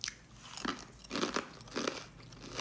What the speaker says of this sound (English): That was a crispy one. Crunchy, crunchy fry.